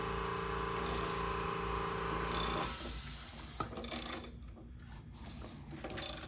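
An engine being turned over by hand during a small-block to big-block swap makes ratcheting mechanical clicks and gear-like whirring up close, then fades into scattered quieter knocks.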